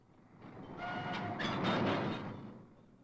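A British coal block train on the railway in 1963 rumbles past at a distance, swelling to a peak mid-pass with faint wheel clatter and squeal, then receding.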